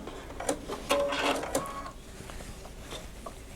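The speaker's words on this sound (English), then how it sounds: "Just get a little back stitch there, sew to the end, back stitch that." A sewing machine backstitches and sews along a side seam of a two-tone tote bag, in a few short, quick bursts of stitching that fade to quieter handling noise.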